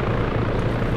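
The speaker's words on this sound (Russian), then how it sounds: "Вертушка." Helicopter in the ArmA 3 war game: a loud, close rotor drone with rumbling low pulses, steady and unbroken over a second.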